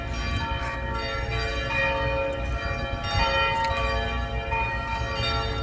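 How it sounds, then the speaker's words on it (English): Church bells ring continuously outdoors, a dense layered peal of sustained tones heard steadily at moderate distance with no voices. "nice church bells"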